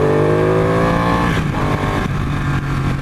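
A 2015 Ducati 899 Panigale superbike revs loud and close, its engine pitch sliding and dropping through a couple of throttle blips in a brief, strong burst with no talking.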